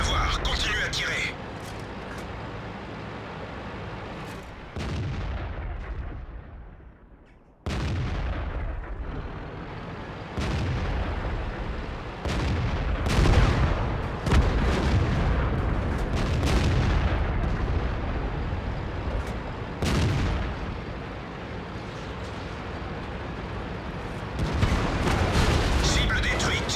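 Tank cannons firing in World of Tanks: heavy booming shots recur every few seconds over a constant rumbling battle din, loud and close, with a voice talking in between.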